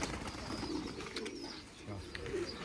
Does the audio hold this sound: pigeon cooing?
yes